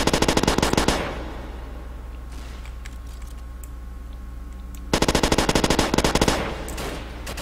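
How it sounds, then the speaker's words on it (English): Machine gun fire in the Roblox game Call of Robloxia 5 comes in two loud rapid bursts, one at the start and another after a pause of several seconds, with quiet game ambience between them. "I just sit here with my machine gun."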